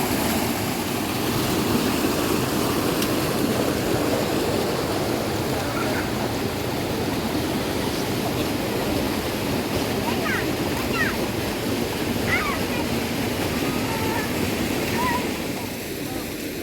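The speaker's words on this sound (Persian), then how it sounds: "یه آبشار کوچولوی باریک هم داره از اینجا میاد" A small, narrow waterfall in Estahban, Fars, Iran gives a steady, close broadband rush of falling water that runs unbroken throughout, with faint gusts of wind mixed in.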